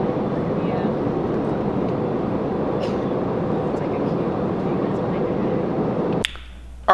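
Steady broadband roar of an airplane cabin in flight at dusk, heard from inside on the way back to Phoenix, Arizona, constant and loud, then cutting abruptly to a quieter hum near the end.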